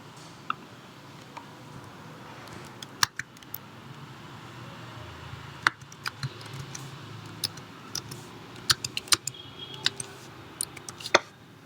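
Numbers are typed on a computer keyboard in sparse, sharp key clicks, single taps and short bursts, quiet and close over a low background hum with no speech.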